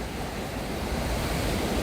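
Heavy surf breaks and washes continuously along the beach at Anna Maria Island at sunset, a dense, steady roar of rougher-than-usual waves mixed with wind buffeting the microphone, close and loud with no voices.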